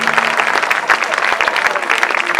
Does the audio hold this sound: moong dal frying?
no